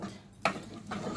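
Masoor dal and zucchini stirred together in a pot, giving a couple of brief, soft spoon clinks against the pot amid quiet kitchen background.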